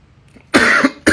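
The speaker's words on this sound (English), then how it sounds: "my dad coughed too much, too." A man coughs twice, close and loud, with harsh, raspy bursts separated by a short pause.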